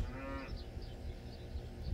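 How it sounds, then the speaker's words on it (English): A cow on a farm gives a short, low moo at the start, followed by quiet outdoor background. "Interrupting cow, moo!"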